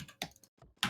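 A computer keyboard is hammered during gaming, with a few sharp, irregular clacks in quick bursts and the last strike the loudest, close up with no voice.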